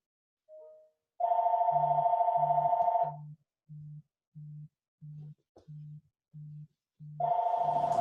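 A telephone rings with long electronic trill bursts at the start and end, separated by a steady series of short, evenly spaced low beeps, loud and with no talking.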